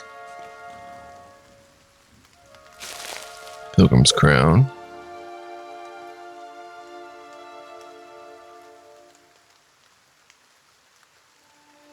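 Steady rain patters through a fantasy scene in the video game Pillars of Eternity, laid under sustained musical tones and a voice, with a brief loud burst near the middle before the ambience thins out.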